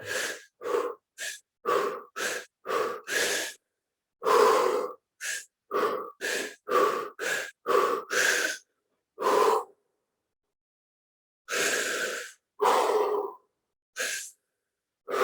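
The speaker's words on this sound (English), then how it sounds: "If you want to have a bigger breath, take a bigger breath." Guided deep breathing exercise: a run of loud, close in-and-out breaths in short rhythmic bursts, some long slow exhales and gasping inhales, with a pause before a few more deep breaths.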